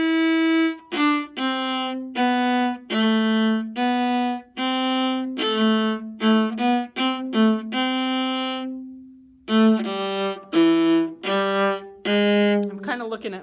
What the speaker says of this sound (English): And this is where we do have Deck the Halls with Boughs of Holly,